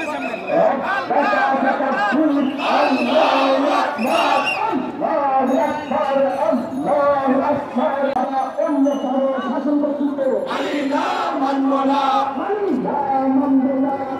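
A large crowd at an Islami Shomaj street procession from Baitul Mukarram chants slogans in unison, a loud dense sustained roar of voices with rhythmic phrases rising and falling throughout.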